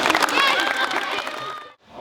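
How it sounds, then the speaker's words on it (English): A school crowd of families and classmates breaks into loud cheering and clapping for fifth-grade students at a recognition day, a dense burst of voices and applause that holds steady, then cuts off abruptly near the end. "Give these students a round of applause."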